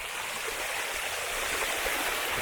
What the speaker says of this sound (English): I'm literally riding in water with a camera in my hand.